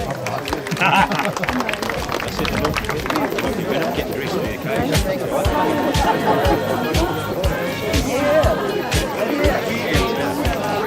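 Crowd chatter at the official opening of the Mangaweka Bridge, a loud, steady outdoor hubbub of many overlapping voices with scattered footsteps and knocks throughout.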